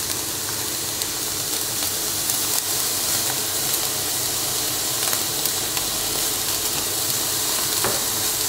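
Meat pieces sizzle steadily on a hot grill, a dense continuous frying hiss with occasional small pops and crackles, close and fairly loud throughout with no talking.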